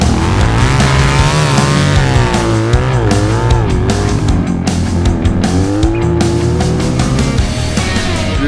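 A motorcycle engine revs hard and fluctuates in pitch while ridden over dirt, loud and close, with rising and falling whines and no talking.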